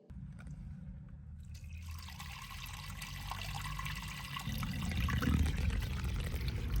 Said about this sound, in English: Just going to fill this up with a bucket of water.